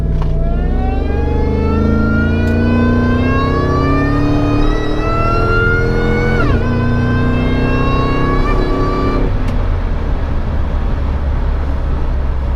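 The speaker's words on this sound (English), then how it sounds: "that supercharger, that supercharger whine is just so incredibly awesome" A Ford Lightning pickup with a Kenny Bell supercharger accelerates hard, its engine note and whine climbing steadily in pitch for about nine seconds before easing off, loud and close throughout.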